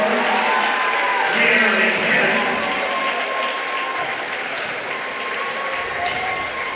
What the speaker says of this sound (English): Certainly deserving of a round of applause here.